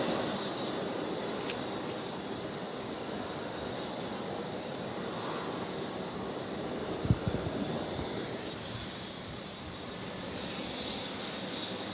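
A Qantas jet departs Brisbane Airport at night, its engine roar a steady, fairly distant rumble holding throughout with no talk.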